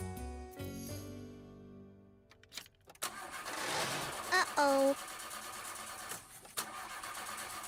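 A cartoon car's engine cranks and sputters but fails to start on a chilly snowy day, a few mid-pitched turning-over bursts with a brief voice exclaiming over it.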